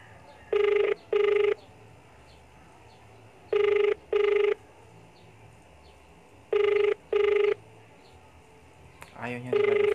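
An outgoing phone call rings unanswered: three pairs of electronic ring pulses, each pair repeating every three seconds, clear and moderately loud over a low background hum, followed by a brief burst of a recorded voice at the end.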